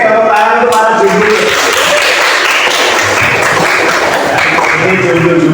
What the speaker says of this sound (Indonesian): tepuk tangan untuk para jomblo